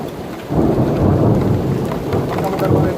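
Heavy rain pours in Makkah in a dense, loud hiss while deep thunder rumbles underneath throughout.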